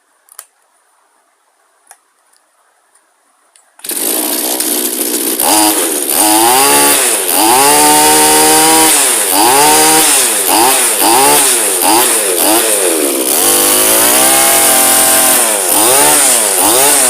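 A straight-shaft brush cutter line trimmer's two-stroke engine starts after a few quiet clicks, then roars loudly and close, revving up and down repeatedly in long rising and falling surges.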